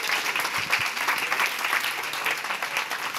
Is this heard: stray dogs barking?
no